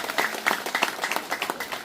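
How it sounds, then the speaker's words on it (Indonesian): Audience clapping at a political rally event in Depok, a brief burst of dense, steady applause from a crowd, fairly close and even throughout. "Tepuk tangan buat kita semua."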